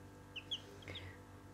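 Newly hatched chicks give a few faint, high, short peeps close by, with quiet room hiss between them.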